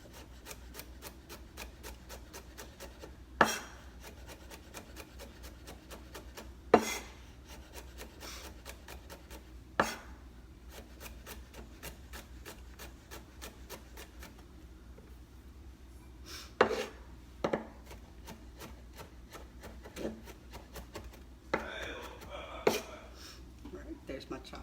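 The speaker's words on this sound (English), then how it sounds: "There's my chopped garlic." A knife chops garlic on a cutting board in a home kitchen, with rapid, even light taps running steadily and a few louder knocks standing out at intervals.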